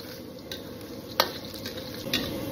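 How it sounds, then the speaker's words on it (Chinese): Garlic and ginger sizzle in hot oil in a wok for a spicy dry-pot beef heart dish, giving a steady, moderate hiss. A sharp metallic spatula click and a lighter scrape break through the sizzle. "起锅烧油，油热以后下入蒜姜爆香，炒出香味以后加入这些材料"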